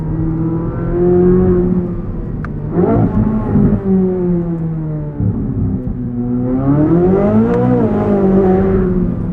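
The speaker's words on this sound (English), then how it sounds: "Half throttle shifts really crackle off." A 2023 Chevrolet Corvette Z06 engine revs up and down through half-throttle gear shifts, with sharp crackles and pops between shifts, loud and close.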